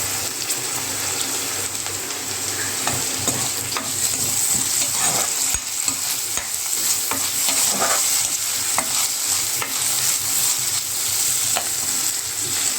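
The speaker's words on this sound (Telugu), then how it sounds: "ఆనియన్స్ ఫ్రై అయిన తర్వాత కరివేపాకు వేసుకోవాలి." Onions and curry leaves fry in a pan for a jackfruit seed and cashew masala curry, with a steady hiss of sizzling, scattered stirring clicks and a watery splashing texture, up close with no talk.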